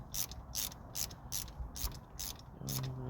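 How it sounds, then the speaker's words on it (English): Ratchet wrench snugging down spark plugs on a 1.9L SOHC Saturn S-Series engine, giving about seven quick bursts of clicking in a steady rhythm, close and fairly quiet, with no talking. "I'll go ahead and snug them down."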